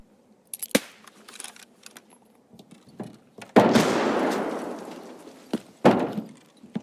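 A grenade thrown down in the video game Escape From Tarkov, with scattered clicks and thuds, then a loud blast that rumbles and fades over about two seconds, followed by another sharp bang.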